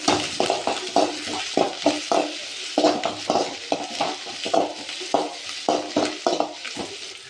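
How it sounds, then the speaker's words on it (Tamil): Onion, green chili and curry leaves sautéing in hot oil in a kadai after mustard seeds have popped, with a steady sizzle and repeated close, rhythmic scrapes of a spatula stirring against the pan. "வெங்காயம், ஒரு பச்சை மிளகாய், ஒரு கொத்து கருவேப்பிலை சேர்த்து வதக்கி விட்டுறலாம்"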